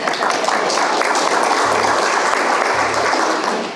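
Loud, close audience applause at a business event, a thick continuous roar of clapping that stays level for several seconds before easing slightly at the end.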